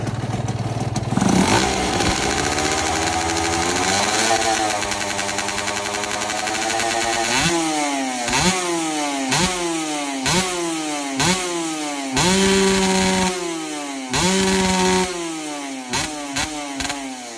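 A Kawasaki motorcycle engine idles, then revs repeatedly in sharp rising bursts, loud and close, each throttle blip falling back to a rough idle.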